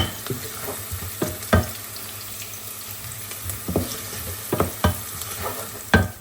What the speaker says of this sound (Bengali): একটু পোলাও রান্না করছি